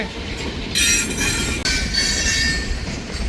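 A long, heavy freight train hauled by three locomotives rumbles steadily past with a broad wash of rolling noise and high metallic wheel squeal, loud and continuous with no voices.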